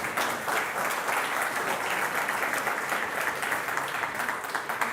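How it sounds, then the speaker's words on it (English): A congregation at a church service gives a round of applause, a steady, moderately distant wash of many hands clapping that holds evenly throughout. "Let me welcome you with a round of applause"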